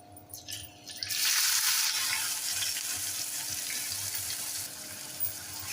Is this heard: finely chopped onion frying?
yes